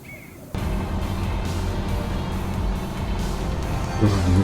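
A construction vehicle in Construction Simulator 2 starts up and drives off, a low rumbling engine drone that kicks in abruptly and holds steady, rising slightly at the end.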